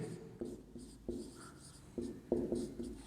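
Pen scratching on paper as an answer is written during a maths lesson on triangles, soft and close, with short strokes and taps in an uneven rhythm and no talking.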